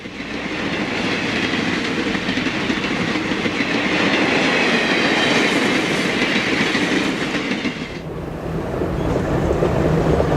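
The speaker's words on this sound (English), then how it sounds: "Illinois Central southbound Seminole passes the 103rd Street suburban station with a long train" A long Illinois Central Seminole passenger train rolls southbound past the 103rd Street suburban station, a loud steady roar with rhythmic wheel clatter that holds for several seconds, then drops a little before surging again.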